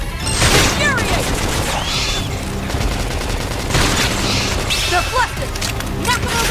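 Rapid bursts of gunfire crackle and rattle almost continuously, mixed with booms and whooshing effects, loud and close throughout.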